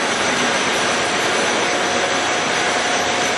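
A 27.5 by 144 inch Monarch engine lathe runs at 361 RPM, producing a loud, constant mechanical whir with a faint steady tone, unbroken for the whole stretch and with no one speaking.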